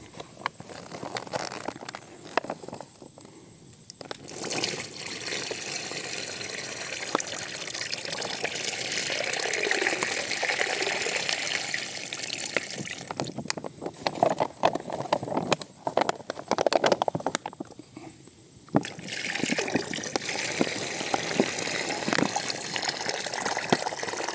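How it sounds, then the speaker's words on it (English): Dirty water pours into a backpacking water filter reservoir in a steady gushing, splashing stream, with a few brief pauses and interruptions, close and fairly loud. "we're just going to pour the dirty water into the reservoir"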